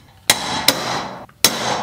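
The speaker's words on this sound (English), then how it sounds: "I'm gonna mark them with my center punch." Three sharp metallic strikes of a center punch marking a gas tank for drilling, loud and close, each ringing briefly before the next.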